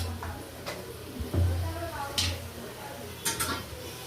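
A spoon stirs Telangana-style gongura chicken curry in a pan, giving scattered scraping and clinking knocks against the metal over soft sizzling, with a voice talking throughout.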